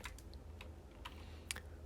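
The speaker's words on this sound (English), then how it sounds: "typing" Soft, sparse clicks of a computer keyboard being typed on, faint and irregular over low room hum during a Python programming session.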